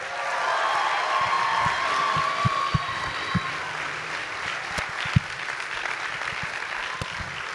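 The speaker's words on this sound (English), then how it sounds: "Let's give him one more round of applause." An audience fills a hall with dense, sustained applause after a stomp musical performance by children. It begins strong, fades gradually, and ends in a few scattered, louder claps.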